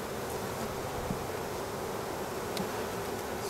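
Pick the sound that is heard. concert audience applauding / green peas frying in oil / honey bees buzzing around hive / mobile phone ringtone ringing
honey bees buzzing around hive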